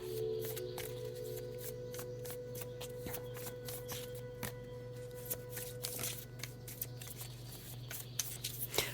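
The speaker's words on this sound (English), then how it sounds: "These cards are really thin. They're a little bit hard to shuffle." Thin tarot cards riffle and flutter in quick, uneven bursts of soft slapping, close up, with a steady low hum behind and no voices.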